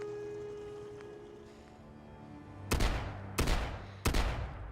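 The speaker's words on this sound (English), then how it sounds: "it allows the shotgun to shoot up to 4 times before it needs a reload" A modded multi-barrel shotgun in Fallout 4 fires three sharp, loud blasts in quick succession after a quiet, humming lead-in, each shot cracking and decaying briefly.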